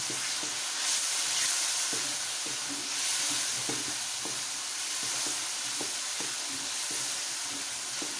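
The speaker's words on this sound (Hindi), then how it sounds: "अब इसको अच्छा सा भूनना है आपने।" Spiced stuffing masala for stuffed capsicum fries in a pan, giving a constant loud sizzle with regular scraping strokes of a spoon stirring through it.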